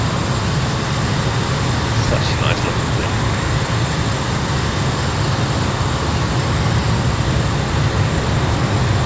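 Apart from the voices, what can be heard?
Eurofighter jet engine taxiing, video game MSFS 2024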